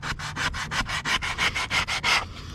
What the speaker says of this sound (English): brilliant for hand sanding because they're very tough